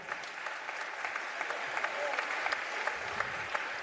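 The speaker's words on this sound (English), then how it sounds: "Let's have a big round of applause for Boston." A crowd at a UMFK versus CMCC men's basketball game applauds, with steady clapping that sounds fairly faint and distant across a gym.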